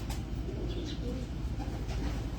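Old rooftop pigeons coo softly and repeatedly against a dense, steady background hum, the calls low and somewhat buried in the noise.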